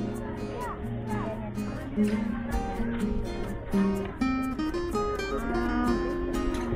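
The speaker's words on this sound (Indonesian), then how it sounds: "Itu sapi." Cattle lowing at a historic fort site in Banten, Indonesia, with a long moo rising over steady crowd chatter and voices of people nearby, including children.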